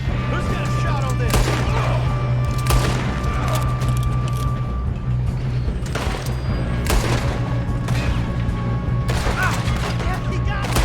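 Heavy gunfire during a train robbery in Red Dead Redemption 2, loud shots cracking out repeatedly over a constant rumbling train, with people talking at times.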